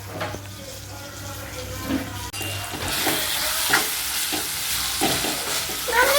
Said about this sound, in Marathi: आता यात आपण फ्राय केलेले कारली घालूयात